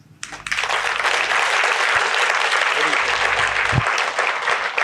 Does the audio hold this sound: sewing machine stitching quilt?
no